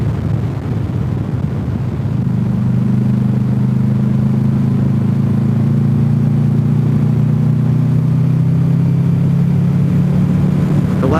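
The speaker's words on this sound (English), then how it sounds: "Man, this road gets busy sometimes." Steady low rumble of passing vehicles on a busy mountain road between Cherokee and Pigeon Forge, a continuous engine drone that swells slightly and holds loud and close throughout, with no voices.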